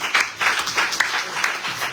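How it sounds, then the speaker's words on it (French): A church congregation bursts into steady applause, many hands clapping together in a loud, even wash of sound with a few sharper claps standing out. "Est-ce qu'on peut acclamer?"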